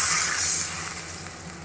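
Water poured into a sizzling paneer curry masala sets off a loud, steady hiss and crackle of hot oil that eases slightly over a couple of seconds, with no talking.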